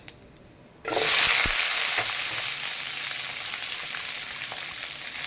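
Small onions hit hot oil for a mutton curry masala, erupting into a loud close crackling sizzle that stays strong and steady, with a few light taps of stirring, no talk.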